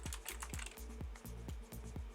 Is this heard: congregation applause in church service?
no